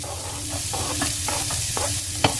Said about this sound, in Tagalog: So first we're going to saute our onion.